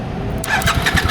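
A Triumph motorcycle engine cranks briefly, then catches and begins a lumpy, pulsing idle close by.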